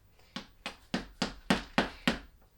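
Seven sharp chisel taps striking a plaster block from a dinosaur skeleton excavation kit, evenly spaced and close, with short ringing decays and no talk.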